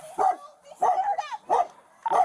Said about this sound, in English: You can even hear a woman crying and a dog barking.